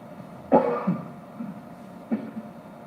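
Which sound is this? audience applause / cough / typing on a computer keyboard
cough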